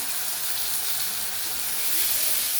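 Paste of cumin, ginger, coriander and pepper sizzling in hot oil with fried onions, a loud, steady bright hiss and crackle that continues throughout, cooking for a dhania katla fish curry.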